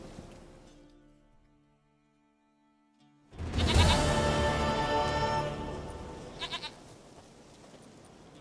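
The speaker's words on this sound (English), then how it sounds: "here's your stupid goat" A goat bleats in The Witcher 3, one loud drawn-out bleat after a quiet stretch of game music, with no talk over it.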